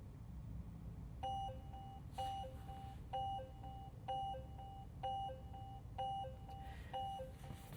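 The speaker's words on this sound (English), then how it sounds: "Normally I'd have my seatbelt on, but I wanted you guys to hear the chime." A 2026 Polestar 4 sounds its seatbelt warning chime inside the cabin, seven evenly spaced two-tone beeps about a second apart over a low road and cabin hum, with no voices.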